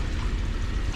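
Water gushes steadily from a tap left fully open indoors at home, a continuous close rushing wash with no pauses.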